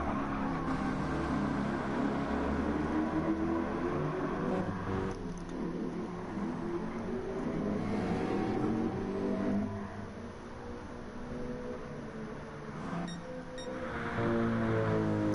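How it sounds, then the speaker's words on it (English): GT3 race cars in a racing video game, including an Alfa 4C, roar past with rising and falling engine tones and shifting revs, fairly quiet and steady with no talk. "And he is out of the slipstream range of Alec in the Alpha 4C"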